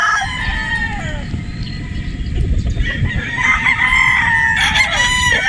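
A possum sweater gamefowl rooster crows loudly and close by, with clucking in between and a second crow near the end.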